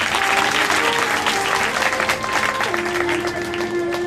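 An audience at a religious Shiva Mahapuran discourse gathering claps together, dense steady applause throughout, loud and close, while a voice rings out over it.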